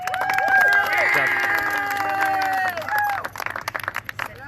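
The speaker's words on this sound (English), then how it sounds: "Let's have a round of applause for Devin North, your street trophy winner tonight" A crowd at a 2019 racing points event claps and cheers for a street trophy winner, with dense applause and scattered whoops that swell, then thin into a few lingering claps, under nearby chatter.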